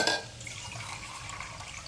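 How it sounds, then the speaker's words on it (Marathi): Hot water poured into a pot of millet (bajra) khichdi, a soft steady liquid wash with faint pan clinks, fairly quiet and continuous with no talk. "इथं पाणी घालायचं आहे"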